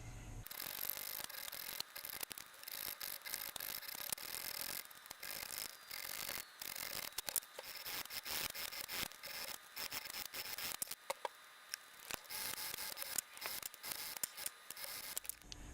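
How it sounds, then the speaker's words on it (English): Steady rasping strokes of a triangle file on a Mosin Nagant rifle's metal, repeated in a quick back-and-forth rhythm, close and continuous with brief pauses. "what I did do was switch to this triangle file"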